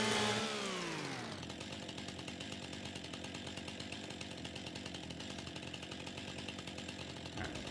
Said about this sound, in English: it's kind of satisfying cutting them with a chainsaw